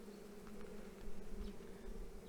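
Steady low buzzing of many honeybees close by at a hive frame, a continuous drone with faint rustling on top, no voices.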